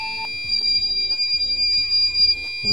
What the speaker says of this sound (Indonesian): Ini suara buzzernya kayak gini ya.